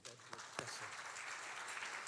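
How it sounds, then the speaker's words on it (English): Wedding reception guests break into applause, a brief soft spread of clapping heard from a distance, with a few sharper claps near the start. "Give a big round of applause"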